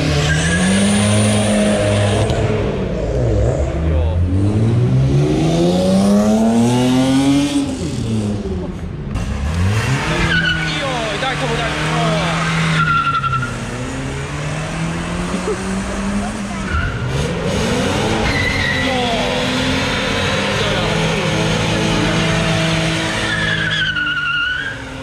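Audi TT doing a burnout at a tuning car meet, the engine revving up and down while tires squeal in long rising and falling screeches, loud and close, with people talking and shouting over it.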